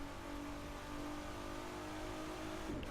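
A street race car engine in the video game The Crew 2 revs and holds a steady, tonal hum under its own road noise, with a brief shift near the end and no voices.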